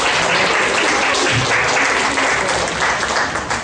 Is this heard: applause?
yes